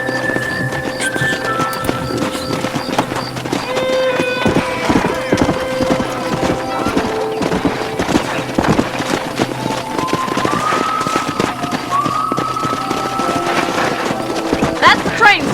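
Horse hooves clip-clop steadily on the ground in the Western video game Red Dead Redemption, a loud continuous rhythm under a layered musical score and spoken dialogue.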